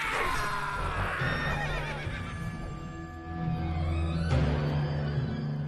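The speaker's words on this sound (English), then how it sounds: "Ahead you hear blades clash and horses scream fit to wake the devil" Horses neighing and screaming amid a battle in a dramatized audio story, several loud whinnies rising and falling over a rumbling low backdrop, followed by a sharp clash and more horse cries.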